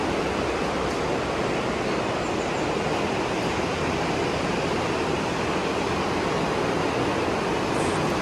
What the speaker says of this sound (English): Water sounds phenomenal.